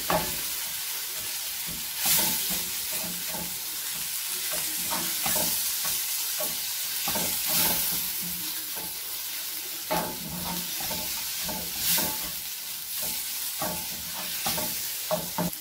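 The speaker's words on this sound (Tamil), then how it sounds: "ஒரு 2 நிமிஷம் வதக்கினா போதும்" Masala for chicken kothu chapathi sautéing in a pan, with steady sizzling and repeated scraping stirs of a spatula, close and fairly loud, continuing with no voices.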